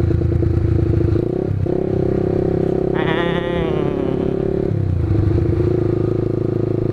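A Honda Sonic 150R motorcycle fitted with a BRT Juken 5 racing ECU rides at steady speed. Its engine drones loud and close throughout, climbing in pitch briefly mid-ride before dropping back, with wind rush around it.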